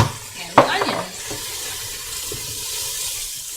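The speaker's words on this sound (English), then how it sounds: "I'm just going to add that to the pot, mix that in with the mushrooms" A spoon scrapes and stirs minced garlic into mushrooms and onions in a pot, one brief clatter followed by soft sizzling at a moderate level.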